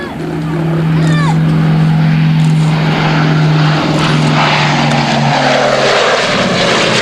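A Lockheed propeller aircraft passes overhead, its loud, steady engine drone and humming tone filling the air. Voices talk over the engine noise.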